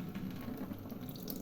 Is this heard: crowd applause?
no